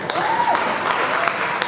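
Guests at a christening and first birthday celebration give scattered, moderate hand clapping, with some speech mixed in.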